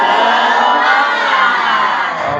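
Classroom of students joining in the tepuk semangat clapping chant, a dense, loud crowd of young voices cheering and shouting together almost continuously, with little pause.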